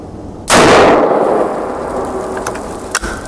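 A single sharp crack from a Kauger-action air rifle fired at a target, loud and close, ringing out briefly before a faint metallic tick near the end.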